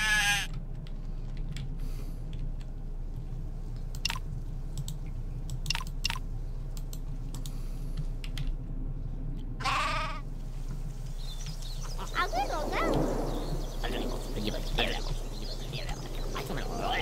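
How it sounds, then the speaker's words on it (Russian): A sheep in the game Craft The World bleats twice, first at the start and again midway, amid sparse clicks, a low hum and some muffled talk toward the end. "Овца сбежала."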